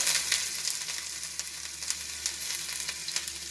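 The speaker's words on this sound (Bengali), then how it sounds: "তেল গরম হয়ে গেছে, এবার এতে 5 ফোড়ন দেব। হিং দিচ্ছি, দিয়ে খুব ভালো করে ভেজে নেব।" Five-spice seeds, asafoetida and chopped ginger fry in hot oil, giving a continuous close crackling sizzle with a few sharper pops, loudest at the start and steady afterwards, with no voices.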